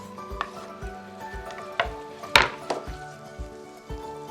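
Onion and Scotch bonnet pepper tipped into a pan with carrot while preparing Jamaican escoveitch tofu, giving a run of light clinks, scrapes and stirring knocks with a soft sizzle underneath, close and moderate in level, no talking.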